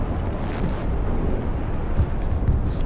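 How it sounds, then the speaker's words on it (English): Rocket artillery carpet bombing in Broken Arrow, a dense, continuous low rumble of overlapping distant explosions rolling steadily for several seconds with no clear pauses. "with this method, you can carpet bomb a really large area"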